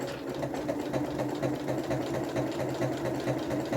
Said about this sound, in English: And just slowly I'm going to start sewing